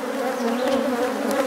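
Honey bees buzz steadily and loudly around a hive being opened as a nuc is moved into a 10-frame hive, a dense, continuous hum with no speech.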